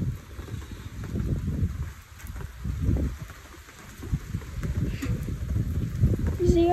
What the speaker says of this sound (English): This one actually has wind.